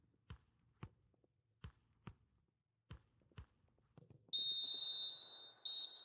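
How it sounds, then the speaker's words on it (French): A referee's whistle in the FIFA 21 football video game sounds the end of the first half, a loud shrill blast followed by a second shorter one, after a series of soft thuds like footsteps or ball bounces. "L'arbitre qui siffle la fin des 45 premières minutes."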